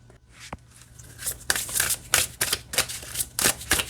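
A hand-shuffled M.J. Cullinane oracle deck, heard close: after a quiet start the cards give a run of crisp, papery riffles and slaps that grow steadier and louder toward the end, no voices.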